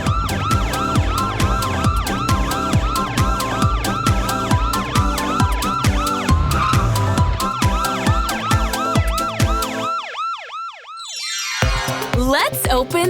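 A loud police siren wails in rapid repeating cycles, then cuts off briefly before a falling swoop resumes.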